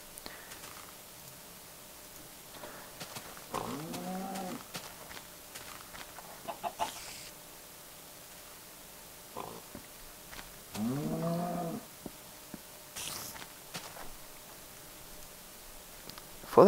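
Two short, wavering Minecraft cow moos, several seconds apart, over quiet clicks and faint background noise.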